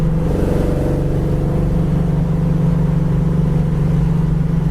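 A 1973 Dodge Challenger Plum Crazy accelerating hard with its tires spinning loose, a loud steady engine roar that holds close and constant throughout, with no voices.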